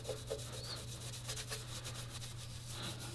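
Steel wool rubbed over the rusty chrome bumper of a 1977 Ford F250, a steady, close scratching with quick back-and-forth strokes and a low hum underneath.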